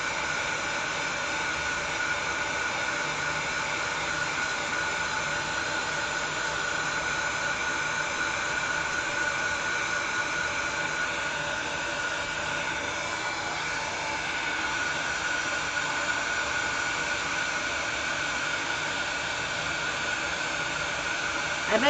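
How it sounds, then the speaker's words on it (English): A hair dryer runs continuously with a steady, loud whooshing blow and even motor whine, unchanging for the whole stretch. "I bet you guys just love the sound of the dryer"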